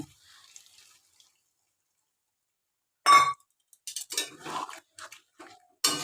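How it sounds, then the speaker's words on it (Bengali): Water is poured from a bowl into a pan of vegetable korma with paneer, with several splashing gushes and clinks after a near-silent start. "এবার আমি এক বাটি জল দেব।"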